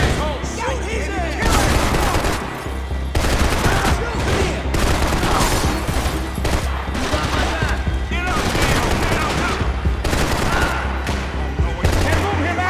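Heavy gunfire in a Max Payne 3 favela shootout, sustained automatic bursts and repeated shots at close, loud range, with voices shouting among the shots.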